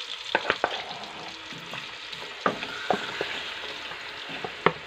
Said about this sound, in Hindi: चिकन को फ्राई करते हैं, आपको दिखाते हैं चिकन को फ्राई करके।